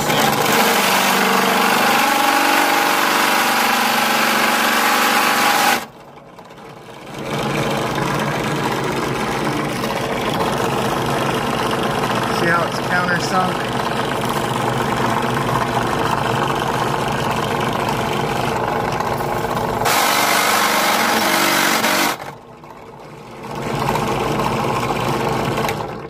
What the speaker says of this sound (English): Now you're going to start into the countersink.